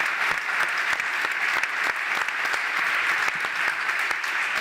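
An audience at a conference event claps for a patient and fellow patients, a full, even wash of applause with sharp individual claps popping through it.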